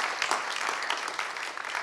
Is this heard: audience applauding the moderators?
yes